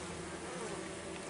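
Honeybees at an open beehive during an inspection, a steady close dense buzzing hum with no pauses.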